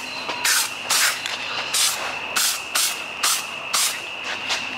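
A spray can of paint hisses over primer during a BMW M52 turbo engine build, in about eight short, even bursts with brief gaps between them, close to the microphone.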